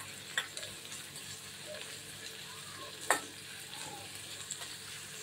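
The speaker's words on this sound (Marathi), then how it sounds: "कांदा छान आपल्याला तेलामध्ये मऊ करून घ्यायचा आहे." Finely chopped onion and a few curry leaves fry in oil with a soft continuous sizzle, broken by a couple of sharp spoon clicks against the pan, close and moderately quiet.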